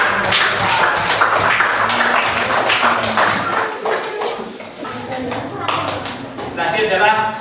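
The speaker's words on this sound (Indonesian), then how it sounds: "Tepuk tangan untuk kelompok 2" Classroom applause for a group of fourth-grade students after their presentation: a burst of many small hands clapping rapidly, loud at first and then thinning, mixed with children's voices and talking.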